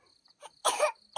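A single harsh cough from a person, a short close burst that stands out against a quiet room with faint background chatter.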